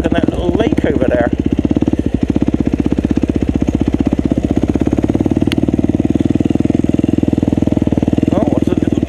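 A KTM 400 EXC enduro motorcycle idles outdoors while warming up, its single-cylinder engine throbbing in a loud, even, rapid pulse held close throughout.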